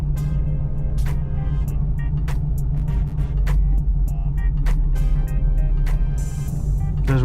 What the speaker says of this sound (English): This is what it's like driving the Jeep.